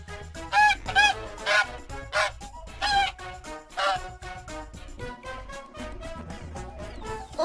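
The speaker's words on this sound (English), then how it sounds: "Goose." A cartoon farm goose honks in a series of loud, nasal calls, several bursts in quick irregular succession, with farm-fowl clucking around them and no speech.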